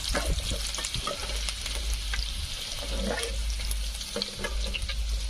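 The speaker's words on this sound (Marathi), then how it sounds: "हिरवी मिरची झाली की लसूण टाकायचा तर कांद्याच्या पहिले लसूण टाकायचा नाहीतर तो व्यवस्थित होत नाही आपला लसूण मस्त लालसर होऊ द्यायचा" Garlic and green chillies frying in hot oil in a home kitchen for a wild-greens vegetable dish: a steady, close sizzle with crackling pops and occasional stirring scrapes, continuous throughout with no talking.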